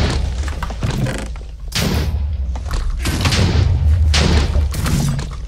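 Explosions in a Minecraft Hypixel Skywars match: loud, broadband booms recur roughly every second or two over a steady rumbling game background, close and dense without pause.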